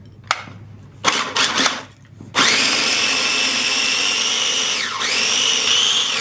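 A food processor chops shallot with salt and pepper for lamb kofta, its motor whining in a few short pulses before settling into a loud, sustained spin that briefly dips near the end.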